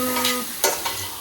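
Masala is stirred in a frying pan over a steady sizzle, with a couple of quick scraping strokes, close and clear.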